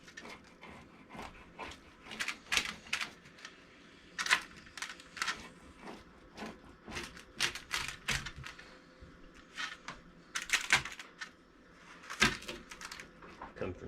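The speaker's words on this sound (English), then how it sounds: "Easiest I've ever had to cut a pizza." A pizza being cut on a farm, giving a quick series of crisp crunching and scraping cuts in irregular bursts, fairly faint and close.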